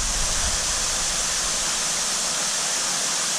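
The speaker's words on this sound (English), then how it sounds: "The filter is running fine." A koi pond filter runs with a steady close rush of flowing water, a continuous broadband splash with no voices.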